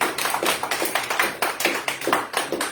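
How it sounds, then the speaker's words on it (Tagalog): Church congregation clapping steadily in a rhythmic beat, a sustained run of sharp, even claps at a lively tempo filling the room, with no talk over it. "Palakpak po sa Panginoon."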